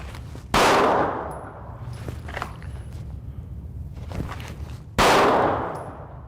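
Two loud, sharp handgun shots crack about four seconds apart at a live-fire target drill, each ringing off with a metallic clang, with faint shuffling between them.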